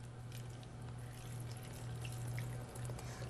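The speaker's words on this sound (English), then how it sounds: "the final step of these tie-dye marbleized eggs is just to rinse them" Running water pours steadily from a tap while tie-dye marbleized eggs are rinsed, a soft continuous splashing flow with a low hum underneath and no voices.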